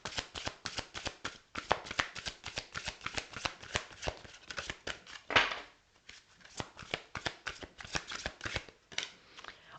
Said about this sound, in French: on va laisser l'archange Gabriel de lumière authentique et véritable vous donner déjà une carte générale